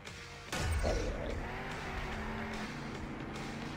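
Monster trucks in a race in Monster Jam Steel Titans roar into a loud, sustained engine drone after a sudden burst with a crashing hit, revving tones rising and holding steadily throughout.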